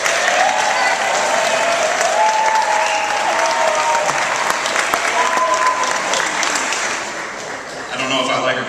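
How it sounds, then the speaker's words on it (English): An audience at a school junior varsity basketball awards night claps for the team manager, a dense, loud and sustained round of applause lasting several seconds before briefly dipping and picking up again. "I don't know if I like her getting more claps than I did."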